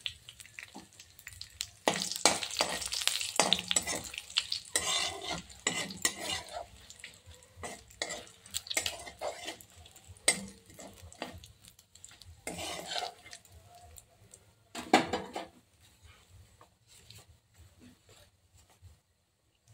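Cumin seeds and dried red chillies fry in a pan for a moong dal with fish head, with a soft sizzle under irregular bursts of a spoon scraping and clattering against the metal.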